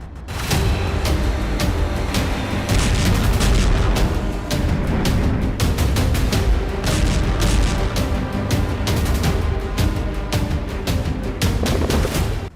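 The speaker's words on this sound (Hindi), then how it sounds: "इजरायली फोर्स अब हर घर पर बमबारी कर रही है" Bombardment of houses in Jabalia, Gaza produces loud, dense explosions and blasts, dozens of booms and cracks in rapid, uneven succession, near and overlapping across the whole stretch with no speech.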